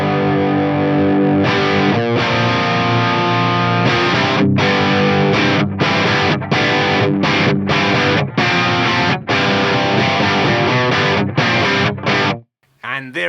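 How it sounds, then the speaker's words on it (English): Distorted electric guitar played loud through a custom amp with its Girth Control raised, dense chords in a steady rhythm with brief stops, ringing alone until cutting off near the end. "I'll turn the Girth Control up as I play."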